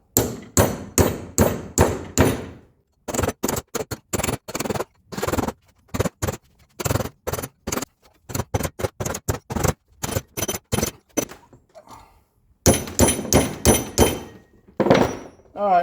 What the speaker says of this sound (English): you need to take a punch and we need to tap around the edge of the seal